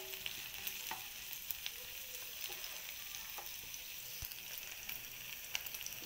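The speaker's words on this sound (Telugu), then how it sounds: "ఎల్లుల్లిపాయ తరుగు కొంచెం ఎక్కువ వేసుకోవాలండి. ఇది బాగా ఫ్రై చేసుకోవాలి." Chopped garlic fries in a pan with a soft, steady sizzle and a few light clicks of a spoon, faint and unbroken throughout, with no one talking.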